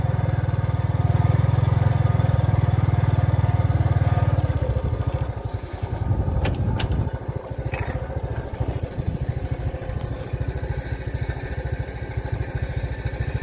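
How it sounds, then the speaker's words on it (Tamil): A two-wheeler engine idles steadily and loud at first, then its tone shifts and roughens as the vehicle is brought to a stop on a rural farm road, continuing to run unevenly to the end. "கொஞ்சம் வண்டியை நிப்பாட்டிக்கிறேன்"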